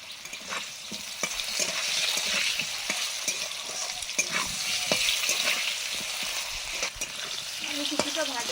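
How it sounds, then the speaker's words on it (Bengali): Potato pieces fry in hot oil in a pan, giving a continuous close sizzle broken by repeated scraping stirs of a spatula at an irregular rhythm. "আলু কিছুটা ভাজা হয়ে গেছে"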